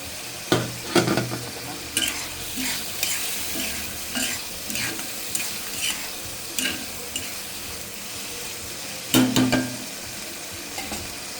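Eggplant sizzles in a pan while a utensil scrapes and knocks against it in irregular strokes, a constant frying hiss under louder clanks near the start and again toward the end.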